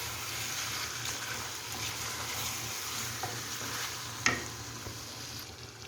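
Pasta being stirred and mixed in a hot pan, a soft continuous sizzle with faint scraping and one brief sharp clink of the utensil against the pan, quiet and without talk.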